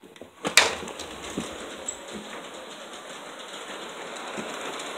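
An LGB model train runs outdoors, producing a soft, steady rolling rattle with faint clicks after a brief sharp clatter at the start; birds chirp faintly in the background.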